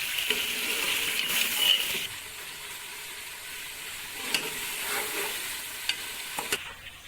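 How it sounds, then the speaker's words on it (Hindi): Beef trotters for Lahori paye sizzle steadily as they fry in a pot, with a few sharp scraping clicks as a spoon stirs them. "अब इसको अच्छे तरीके से भून लेंगे"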